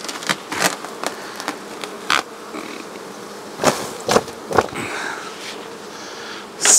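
Dense honeybee buzzing at an open hive during a Varroa mite check, a steady drone with occasional louder bees passing close to the microphone and a few sharp handling knocks.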